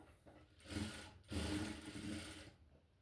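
A sewing machine stitches a petticoat in a quiet, slow run, whirring softly in two brief stretches with a short break between them.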